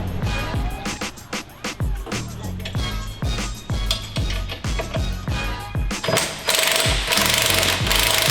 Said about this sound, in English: Just snugging these down with an impact.